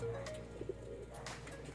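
Soft pigeon cooing and a few chirps from birds close by inside a loft, with steady low background hum throughout.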